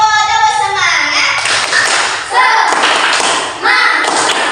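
Elementary school pupils in a classroom at SDN Kertosari 02 in Indonesia clap in rhythm while chanting together, loud and close, with the sharp claps and voices blending.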